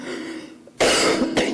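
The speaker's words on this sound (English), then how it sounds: "Yes, I've been the one coughing all the time." A woman clears her throat and coughs, starting with a quiet rumble and then two loud, harsh bursts close to the mic, with no talk.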